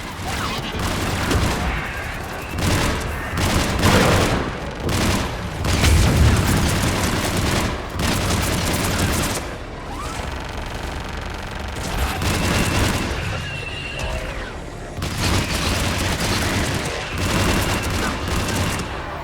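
Continuous battle din from the video game Mass Effect 3, with dense rattling gunfire and heavy missile explosions booming one after another, loud and unbroken throughout.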